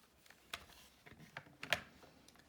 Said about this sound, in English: Let's just type that into our calculator in one go.